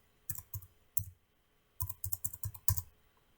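Bursts of typing on a computer keyboard, clicking keys in short clusters separated by pauses, close and fairly quiet with no voices.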